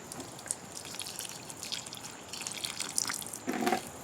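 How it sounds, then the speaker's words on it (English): Potted cacti and succulents in sandy soil being watered heavily, heard as faint, close dripping and trickling with small irregular splashes, strengthening into a brief pour near the end, with no voices. "I like to really water them heavily"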